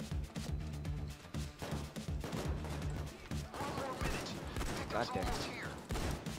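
Rapid bursts of gunfire in the video game PayDay 2, dense volleys of shots cracking in quick succession throughout, with a player's voice briefly speaking over the shooting.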